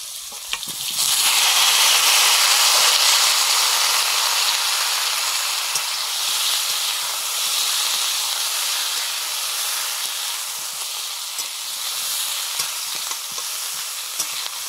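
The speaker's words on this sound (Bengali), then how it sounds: "ফুলকপি আলুগুলো ভেজে নিচ্ছি।" Cauliflower and potato pieces frying in hot oil, a loud continuous sizzle and hiss that swells after the first second and holds steady with faint clinks, no talking.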